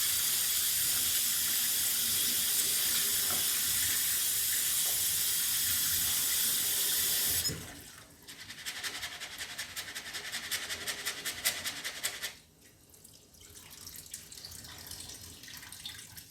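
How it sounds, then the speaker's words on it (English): Water runs steadily from a tap into a curry chicken pot, a loud continuous rush that stops abruptly, followed by quieter cooking and clattering sounds. "Add a little water"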